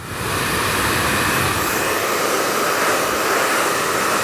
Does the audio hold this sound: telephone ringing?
no